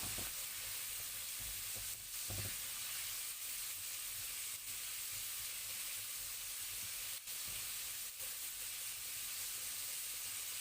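Chicken popcorn pieces in crinkly flour coating deep-frying half-done in hot oil, a dense, continuous close sizzle and crackle with occasional stirring bumps and no voices.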